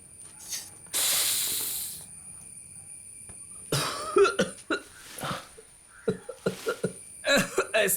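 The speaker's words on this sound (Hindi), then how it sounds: "पहला कश लगाने से खांसी होती है" A man coughs harshly after taking his first puff of a cigarette, in a burst followed by a string of shorter, ragged coughs and sharp breaths, close and fairly loud.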